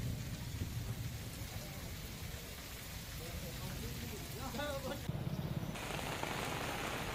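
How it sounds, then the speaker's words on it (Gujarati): Heavy rain driven by strong wind pours steadily in Kenedy village, Kalyanpur taluka, a dense continuous hiss with low rumbling beneath and a brief rattling burst near the end. "કેનેડી ગામમાં ભારે પવન, ગાજવીજ સાથે વરસાદ વરસી રહ્યો છે"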